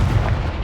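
The Accio spell is cast in the Hogwarts Legacy video game, a short, loud, low whooshing boom of magic from close by.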